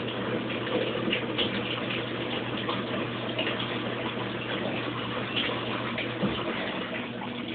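Water rushes steadily into a Kenmore Oasis washing machine as it fills for the rinse cycle, a constant gushing flow with a low hum beneath, heard alone for several seconds.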